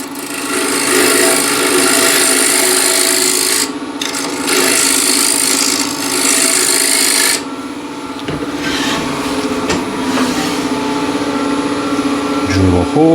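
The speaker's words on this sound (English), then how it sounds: "Drill a hole." Bit boring into a spinning wood blank on a lathe gives a loud, harsh grinding rasp that stops abruptly partway and resumes, then gives way to quieter lathe hum with a voice speaking briefly near the end.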